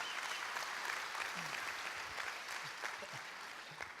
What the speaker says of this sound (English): Wouldn't you give him a big round of applause?